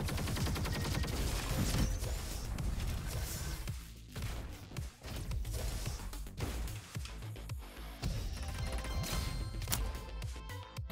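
Rapid volleys from the missile battery weapon in the Roboquest shooter, a busy run of thumping launches and crashing impacts mixed with game music, steady and fairly loud across the stretch.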